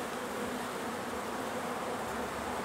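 Dense, steady buzzing of many honeybees flying in and out at the entrance of an overwintered hive on a warm day. The hum is close, loud and continuous throughout.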